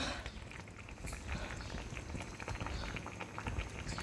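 Pabda fish curry simmering in a pot with coriander leaves, giving a soft, steady bubbling and fizzing that stays faint and continuous throughout.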